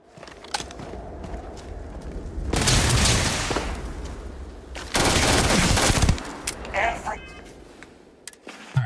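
Gunfire from a weapon in Starfield comes as two long loud bursts of rapid shots, with quieter clicks and game sounds around them and a voice speaking in between.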